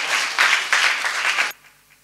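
An audience at a Christian church gathering claps to welcome the preacher, dense applause that swells in waves for about a second and a half, then stops abruptly, leaving a quiet room.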